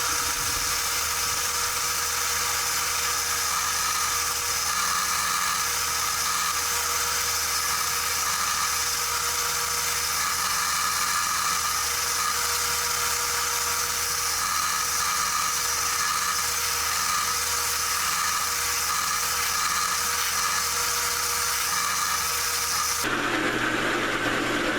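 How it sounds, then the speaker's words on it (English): A drum sander works on a burl wood knife handle, giving a steady, unbroken motor whir with a buzzing grind for over twenty seconds before it cuts off near the end. No one speaks. "I'm going to move over to the drum sander and do a little work from there"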